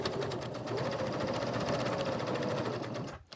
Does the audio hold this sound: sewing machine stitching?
yes